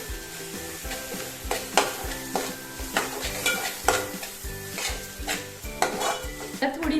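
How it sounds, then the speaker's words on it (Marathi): Turmeric, pav bhaji masala and dried fenugreek leaves sauté in a pan for street-style pav bhaji, with a spoon stirring and scraping repeatedly over a steady sizzle, close and moderately loud, no talking. "आपण हे मसाले परतून घेऊ"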